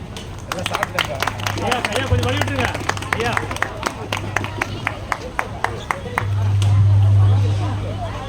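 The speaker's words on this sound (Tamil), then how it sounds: "அவங்களுக்கு ஒரு மனமார்ந்த பாராட்டுகளை உங்களுடைய கைத்தட்டலோட" Audience clapping at a Pongal celebration held by a night-school federation, a dense run of sharp claps forming steady applause throughout, with a low steady hum underneath that swells near the end.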